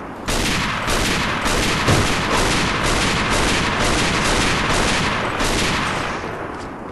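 Rifle fire in the shooter game A.V.A. rings out loud and close as rapid, nearly continuous bursts of shots that fill the whole stretch, with a few heavier blasts mixed in.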